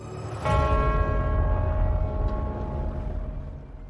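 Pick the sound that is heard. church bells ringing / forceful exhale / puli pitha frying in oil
church bells ringing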